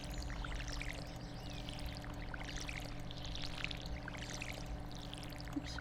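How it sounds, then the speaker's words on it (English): Crops being watered in Stardew Valley, a soft continuous pouring and splashing of water from a watering can, steady and close over a faint background music bed. "Okay, so they're in the soil. I just gotta go through and water them."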